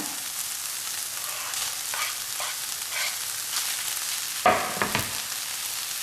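Peach pieces go into a pan of sweet-and-spicy chicken frying after the liquid has cooked off, with a steady sizzle broken by a sharp clatter and a few stirring scrapes near the end.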